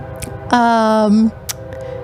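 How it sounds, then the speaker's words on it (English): A train horn in Ashland gives one loud, steady blast of about three-quarters of a second, close and clear over low rumbling background noise, followed by a faint click. "See here comes a train."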